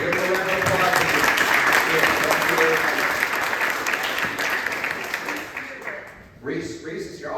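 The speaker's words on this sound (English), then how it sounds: "Give him a round of applause." Audience at a regional political meeting in New Westminster, BC breaks into sustained loud applause and cheering, dense clapping that tapers off near the end as voices emerge.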